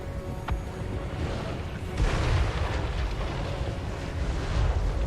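Deep rumbling booms and bursts of magma cannon bombardment in the Total War: Warhammer strategy game, a heavy continuous barrage that swells louder around the midpoint and stays dense to the end.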